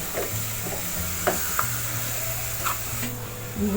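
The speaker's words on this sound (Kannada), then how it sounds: "ಒಗ್ಗರಣೆ ಹಾಕ್ತೇನೆ." A tempering of spices for Mangalorean crab curry sizzles softly in a pan, a steady low fry broken by a few light stirring clinks.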